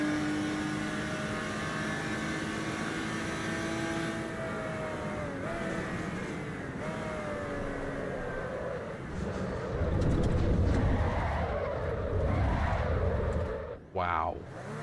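A racing car on an out lap in a driving game, with a loud, steady engine note holding a buzzing drone. The pitch slides as it shifts and revs, and a voice talks over it now and then.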